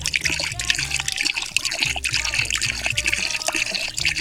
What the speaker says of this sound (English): Let's pour some Orbeez in here.